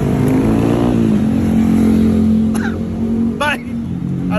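Nighttime street traffic in Talamban hums loudly and continuously with car and motorcycle engines close by, a few passing vehicles and brief horn-like tones, under a voice talking.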